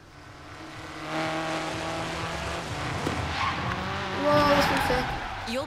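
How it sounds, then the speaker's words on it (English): A buggy racing a Jeep in the Forza Horizon 3 launch event: a revving engine drone with tire squeal and skidding that swell toward the end, while a voice talks over it. "Driving the buggy for the launch event against that Jeep"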